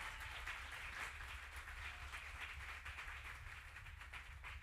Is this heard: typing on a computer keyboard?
no